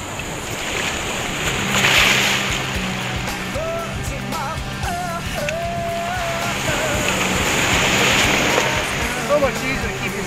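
Ocean waves rolling and breaking near shore off Corpus Christi, Texas, heard from an offshore fishing kayak; a constant surf wash mixed with wind buffeting the microphone, swelling louder around two surges.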